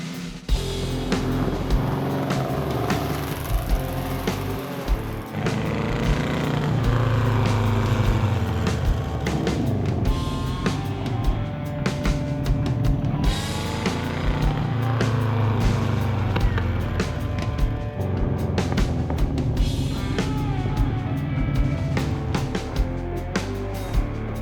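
A custom reimagined VW Bug, small go-kart-like car, drives with a loud, steady engine drone that rises and falls as it accelerates and shifts, close and continuous throughout.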